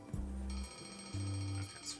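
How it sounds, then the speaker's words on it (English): An alarm clock rings in a video game trailer, its tonal bell-like buzz coming in two loud, steady bursts with a short gap between them, close and clear with no talk over it. "The familiar noise of Henry's alarm clock announces the dawn of a new day."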